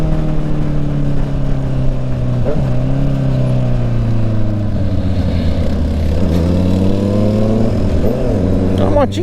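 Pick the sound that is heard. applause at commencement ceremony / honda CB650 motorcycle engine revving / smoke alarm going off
honda CB650 motorcycle engine revving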